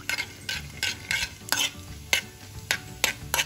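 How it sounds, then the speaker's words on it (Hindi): Cumin seeds in a tablespoon of hot oil in a pan on a gas stove, with rhythmic scraping strokes of a spoon roughly every half second over a low sizzle, close up and without speech. "अब हम उसमें 1 बड़ा चम्मच ऑयल डालेंगे। अब इसमें डालेंगे जीरा"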